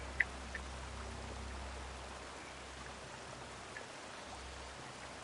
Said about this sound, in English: now look at those waterfalls